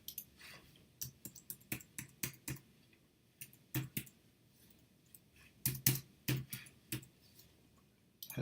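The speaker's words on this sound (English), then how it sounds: "hopefully I typed that right." Keys clack on a computer keyboard while logging into an admin account, coming in short irregular bursts of crisp, close clicks with brief pauses between them and no voices.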